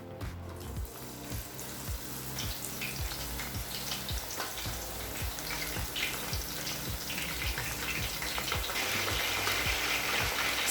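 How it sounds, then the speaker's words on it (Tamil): Soya chunks deep frying in hot oil over a medium flame, a steady close crackling sizzle with dense bubbling that holds throughout and grows slightly louder toward the end, with no voices. "நம்ம சோயா சங்க்ஸை போட்டு பொரிக்க ஆரம்பிச்சிடலாம்."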